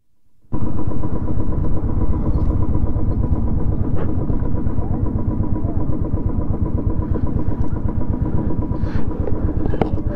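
A vehicle engine runs steadily and loudly on an uphill mountain road on the Ladakh route, starting abruptly after a brief quiet moment and then holding a continuous rumbling drone close by.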